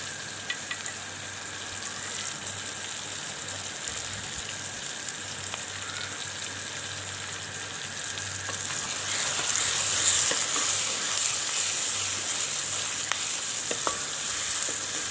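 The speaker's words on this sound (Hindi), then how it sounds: "अब इसमें हम डालेंगे लहसुन और अदरक का पेस्ट।" Garlic and ginger paste sizzles and fries in a hot pan while cooking green beans, a steady crackling hiss that grows slightly louder midway, with faint stirring scrapes and no talking.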